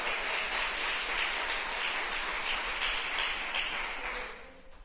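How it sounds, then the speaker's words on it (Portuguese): A church congregation applauds during a Portuguese-language sermon, a dense and steady wash of clapping that holds evenly for several seconds, then fades at the end. "Você pode aplaudir o nome do Eterno?"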